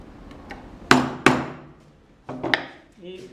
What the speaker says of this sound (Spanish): Cuando quieren tallar, si su madera es un poco más dura, pueden usar maceta.